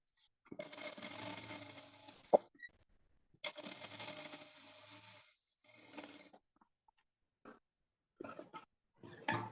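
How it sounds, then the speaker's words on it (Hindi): A sewing machine stitches a chain trim onto a lehenga in bursts: two long runs of stitching, a shorter one, then a few brief spurts, with quiet pauses between them and no talking. "और इसी तरह से सेम इसको भी सिलाई दे देंगे।"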